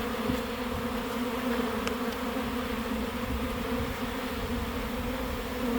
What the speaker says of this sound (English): Still got plenty of them in the air. It's a pretty good sized swarm.